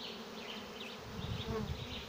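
A honeybee swarm moving into a bucket swarm trap makes a steady, close insect buzz that swells slightly louder halfway through, with no voices.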